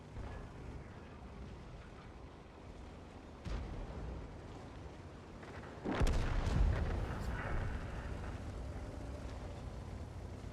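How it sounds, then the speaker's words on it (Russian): Tank cannon fire in World of Tanks, with a faint distant report, then a sharp, loud boom that rolls off into rumbling battle ambience. No talk. "Кто-то стреляет."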